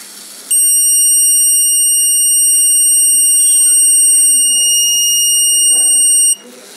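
A steady, piercing electronic buzzer from an ultrasonic-sensor automatic braking project vehicle sounds continuously for about six seconds after an obstacle is detected, loud and close, then cuts off abruptly.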